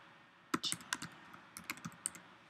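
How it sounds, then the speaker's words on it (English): Computer keyboard typing while an email address is entered: quiet, quick irregular clicks in short bursts, close and alone with no voices. "I'm just going to type it right here."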